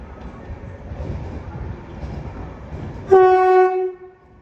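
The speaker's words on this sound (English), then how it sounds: "down in distance is the delayed 11:20 LNER service from Leeds to London King's Cross, worked by a LNER 225 set" An LNER 225 set passenger train on the East Coast Main Line at Doncaster approaches with a low rumble, then sounds a loud two-tone horn blast of about a second near the end.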